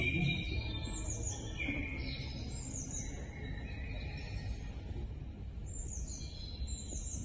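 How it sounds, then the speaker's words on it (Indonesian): Several birds sing and chirp at a distance, their high warbling phrases repeating over a faint, steady outdoor background. "Banyak sekali terdengar suara burung"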